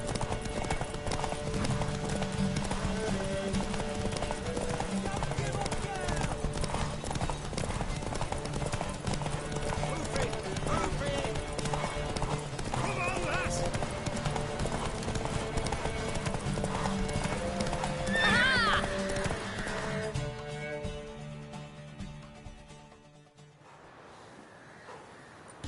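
Rhythmic hoofbeats of a galloping horse in the game Witcher 3 pound steadily over music and game sounds, with a brief whinny near the end before things fade out.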